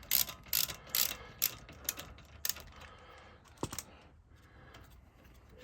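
A ratchet loosening a brake caliper bolt on a car, several quick bursts of close metallic clicking separated by brief pauses, then a tool clink and quieter handling.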